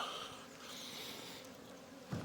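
Honeybees drone in a steady, dense buzz at an open hive in an Adana Kozan apiery during stimulative feeding, close and continuous, with a faint knock near the end.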